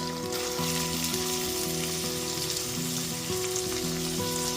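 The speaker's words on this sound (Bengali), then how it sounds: "পেঁয়াজটা দিয়ে খুব ভালো মতো একটুখানি ভেজে নিতে হবে" Chopped onion sizzles steadily in a pan of melted sugar as part of a potol chingri rasa, with a continuous close frying hiss and a faint steady hum running underneath.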